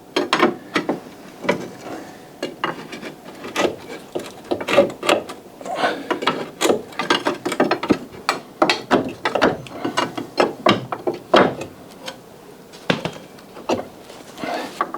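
Metal clicks, clanks and ratcheting come from work on a Saab 9000 lower control arm as it is taken off. The irregular knocks and taps are close and continue throughout, with no talk.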